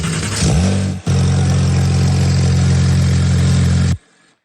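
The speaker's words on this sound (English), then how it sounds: "it plays the start engine sound" A car engine start effect played in a game engine: a brief starter crank, a pause, then a loud steady idle hum that cuts off abruptly, leaving a faint tail.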